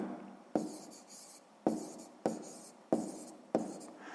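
Handwritten math notes for a sixth-grade exercise: five crisp scratching strokes on paper, each starting sharply and tailing off, spaced about a second apart, close and quiet with no voices.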